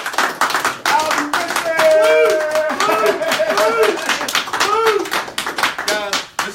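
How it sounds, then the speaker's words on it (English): A Toyota sales team gives itself a round of applause, brisk close clapping from a small group under excited talk and cheering voices. "let's give ourselves a round of applause"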